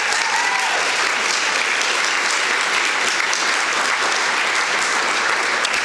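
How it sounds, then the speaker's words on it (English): A large audience at the ITA Women's Hall of Fame Class of 2019 induction ceremony applauds the inductees, with loud, dense clapping sustained evenly for several seconds and no break. "feel free to applaud when I name them"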